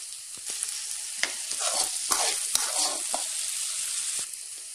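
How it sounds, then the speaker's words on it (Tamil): Chopped green chillies sautéing in a pan, a continuous close sizzle with a few sharp stirring knocks, no speech. "இப்போ இதுலயே கட் பண்ணி எடுத்து வச்சிருக்கக்கூடிய பச்சை மிளகாய், இதையும் ஒரு 5 நிமிஷம் நல்லா வதக்கி எடுக்கலாம்"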